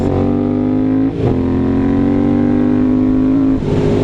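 A loud Triumph Scrambler 900 motorcycle with an aftermarket Arrow exhaust revs up close with a throaty, rumbling note, holding a steady high idle with two brief dips as the throttle is blipped.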